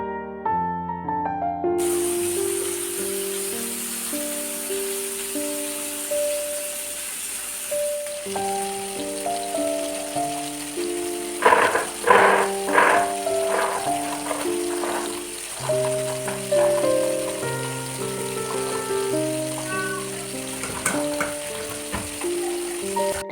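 Fish frying in a pan with turmeric, chili and salt gives a steady, bright sizzle throughout, with occasional stirring clatter and a melodic backing tune playing over it.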